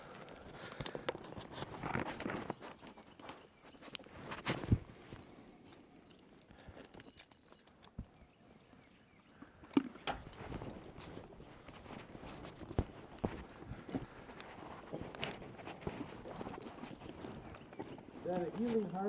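A young team of three-year-old draft horses walking at a logging site, hooves clip-clopping in an irregular rhythm, close and moderately loud, with people talking over it.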